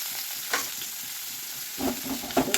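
Okra fries in oil in a pan for a simple stir-fry, a soft, steady sizzle broken by a few close stirring scrapes and clinks, growing busier toward the end.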